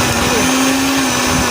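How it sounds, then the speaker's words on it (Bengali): A Vision Model-017 electric blender runs at a steady high-pitched motor whine, loud and close, held in hand for the whole short stretch, with no voice over it. "আমরা সবচেয়ে বেস্ট উপায় হচ্ছে আমরা ব্লেন্ডারটাকে এদিকে দিয়ে চালাবো, হাত দিয়ে ধরে রাখবো।"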